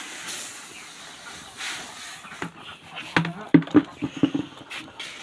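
A pot of pig feed boils with a steady, close steam hiss, then the hiss gives way to a run of sharp knocks and clatters near the end.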